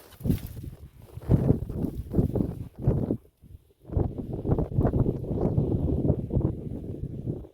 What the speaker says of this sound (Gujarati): આ વાડીએ તો બહુ મસ્ત પવન આવે.